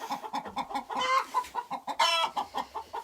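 Hens cluck inside a farm hen house in a steady series of short, close calls, with a couple of louder, drawn-out squawks mixed in.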